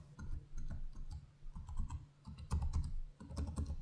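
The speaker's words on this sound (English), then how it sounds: "It has a satisfying tactile click to it." Typing on the keyboard of an Asus TUF A14 (2025) laptop: quick, irregular tactile key clicks close up, arriving in short bursts with brief pauses between them.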